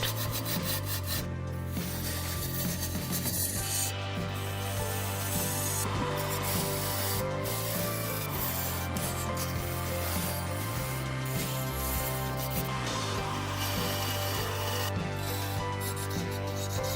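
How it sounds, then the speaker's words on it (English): A lathe blade pressed hard into the neck of a giant wooden vase makes a continuous close rasping scrape with a steady low hum from the spinning lathe beneath it. "I had to push the blade hard to remove some wood from the neck area"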